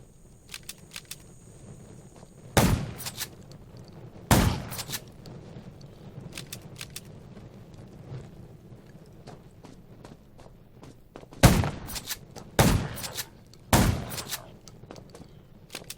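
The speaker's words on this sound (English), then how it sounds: "Gunshots will attract more zombies." Gunfire in the zombie survival game Undawn: several sharp, isolated bangs spaced across a quiet background hum, with a couple of close shots in quick succession near the end.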